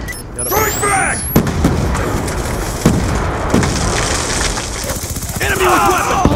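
Combat in the multiplayer of the video game Call of Duty: Black Ops 2, where a frag grenade goes off amid loud, continuous gunfire and booms, with sharp impacts standing out and voices heard briefly at the start and end.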